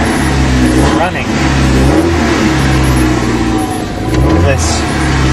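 An Alfa Romeo 116 GTV engine runs loud and close after starting on choke, with a steady idle rising into a couple of short revs, while someone talks over it.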